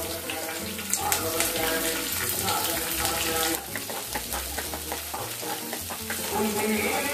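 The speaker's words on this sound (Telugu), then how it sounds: "ఆనియన్స్ని గోల్డెన్ బ్రౌన్ కలర్ వచ్చేలాగా ఇలా వేయించేసుకుందామండి" Onions sizzling and frying in a pan for semiya upma, a steady close crackle with occasional stirring clinks and scraping running throughout, no talking.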